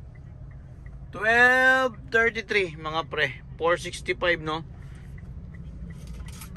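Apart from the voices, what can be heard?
car traffic on Quezon Avenue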